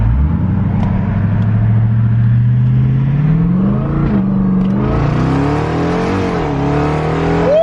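Jeep Trackhawk with an AWE exhaust revving hard, loud and close, the deep engine note climbing and falling through repeated revs while a high supercharger whine rises over it.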